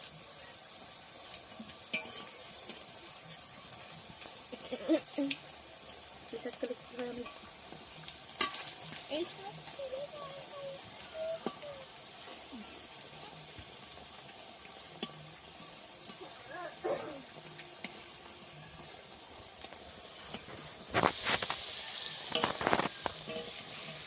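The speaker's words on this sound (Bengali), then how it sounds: "বড়াগুলো ভাজা হয়ে গেছে, তুলে নেব" Fritters of greens fry in oil during village-style home cooking, giving a low, continuous sizzle broken by occasional stirring clinks and scrapes, heard at a quiet level.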